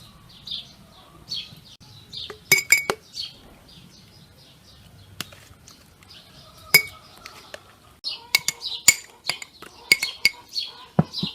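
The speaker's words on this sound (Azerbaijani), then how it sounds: "belə 1 kilo bankaya doldururam" Pitted fruit is packed into a glass jar for a homemade sweet, giving sharp clinks and taps of glass against glass and utensil in scattered bursts. Chirping birds sound faintly in the background, and no one speaks.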